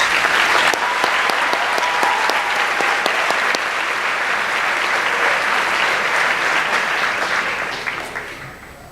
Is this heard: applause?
yes